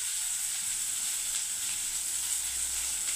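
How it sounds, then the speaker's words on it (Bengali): Steady, moderately loud sizzling of food frying in a pan with salt and spices, a continuous crackling hiss with no talk over it. "এখন ভেজে নিচ্ছি ভালোভাবে।"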